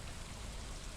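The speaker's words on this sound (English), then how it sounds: "As you can see right now, it is raining." Steady rain falls in the video game Stardew Valley, a soft continuous patter with no distinct drops standing out, heard briefly and without talk.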